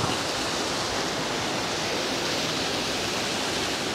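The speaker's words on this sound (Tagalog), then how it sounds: "Hindi ko alam kung anong tawag sa falls na to." A river waterfall in Bailen, Cavite, giving a steady, dense roar of rushing water that fills the whole clip without a break, with no voices over it.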